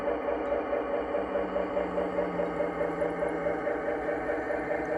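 A USAT GP7 model diesel locomotive with a Zimo MS950 sound decoder, playing a steady low diesel idle rumble with a faint rhythmic throb, even and unchanging throughout, close and moderate in level, with no talking.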